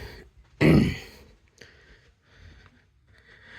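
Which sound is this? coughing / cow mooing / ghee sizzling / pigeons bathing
coughing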